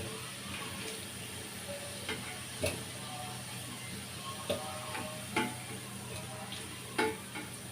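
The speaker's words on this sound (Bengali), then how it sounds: "আলুটা কিছুক্ষণ ভাজা হয়ে যাওয়ার পরে এবার আলুটা আমি তুলে নিব।" Potatoes frying in oil for a pigeon meat curry, a steady low sizzle with scattered clicks of stirring and a few sharper spoon taps, close and fairly quiet, no talking.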